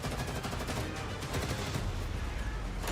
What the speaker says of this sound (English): The sound of heavy gunfire comes over the transmission once again